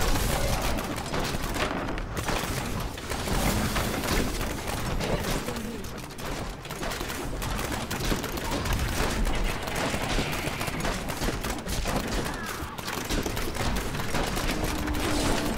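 Demon Hunter turrets firing nonstop in Diablo 3 combat among large groups of enemies, dense rapid gunfire and impacts forming a loud, steady wall of battle noise.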